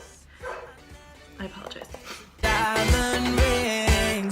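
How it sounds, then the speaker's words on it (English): Small pet dogs bark and yip in a home during a makeup tutorial, a few sharp barks at first, then louder repeated barking under a woman's apology. "if you hear my dogs barking"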